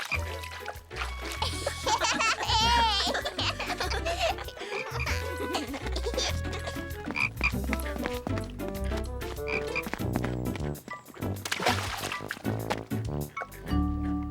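Frogs croak at a pond in a children's cartoon scene, blended into a dense, continuous bed of music with light watery trickling and dripping throughout.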